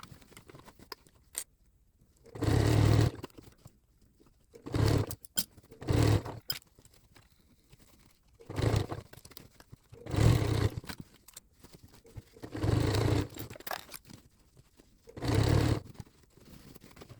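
A sewing machine stitches fabric for a Halloween witch hat in several short bursts of whirring, each lasting a second or so and separated by pauses with small handling clicks, close and fairly loud with no talking.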